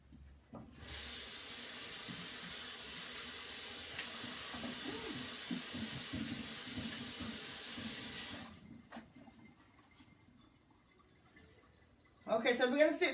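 A kitchen sink tap runs steadily for about eight seconds while hands are washed during banana nut bread baking, then shuts off, leaving quiet room sound and a brief voice near the end.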